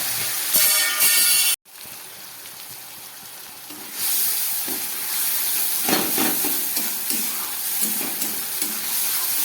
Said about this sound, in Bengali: রসুন, পেঁয়াজ, লঙ্কাটাকে একটু ভেজে নিলাম